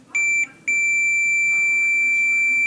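A multimeter's continuity beep during an ohm test of a BMW injector driver, a loud steady tone that sounds briefly, cuts out, then holds continuously.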